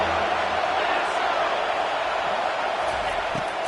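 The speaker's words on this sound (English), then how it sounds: "Decibels rising as the crowd gets behind this defense on 3rd down." A stadium crowd in a college football video game roars steadily as the defense lines up on third down, a loud, unbroken wash of cheering noise with no pauses.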